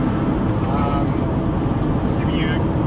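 A 1983 Porsche 911 engine revving steadily around mid revs while driving, a continuous loud drone with road and wind noise filling the whole stretch, and a voice talking over it.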